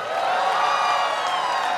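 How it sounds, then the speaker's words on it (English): An audience at a dance competition cheers and whoops for the dancers, a sustained dense wall of crowd noise with high shouts on top. "Crowd, make some noise for all the dancers."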